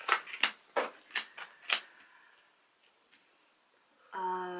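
Tarot and oracle cards laid out on a table and pushed aside, giving about six crisp card slaps in quick succession, followed by quiet and a short closing rustle, close and alone.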